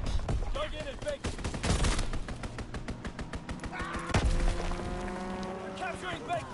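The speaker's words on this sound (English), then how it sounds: "Enemy strafing run inbound." Gunfire from an enemy aircraft strafing run in a video game: rapid, loud bursts of automatic fire, with a heavy impact near the middle and a voice speaking over the noise.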